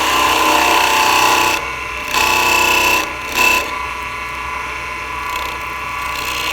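Gouge cutting a V-cut into a wooden spindle on a lathe, a close raspy cutting whir in short bursts with brief lifts between passes over the steady hum of the spinning workpiece.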